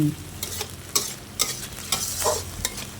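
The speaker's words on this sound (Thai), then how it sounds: "ผัดพริกแกง ให้สุก" Curry paste being stir-fried in a pan with a little water for crispy fried fish tossed in curry paste: repeated scraping stirs over a steady low sizzle, alone and close.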